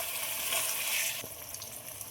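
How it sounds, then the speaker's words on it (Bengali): Capsicum pieces sizzle in a hot pan for vegetarian chilli paneer, a steady bright frying hiss that drops to a quieter crackle halfway through, with a faint clink near the end. "ক্যাপসিকামগুলো দিয়ে ভাজার জন্য আবার খুব ভালোভাবে নেড়ে দেবো"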